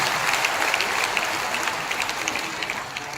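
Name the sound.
applause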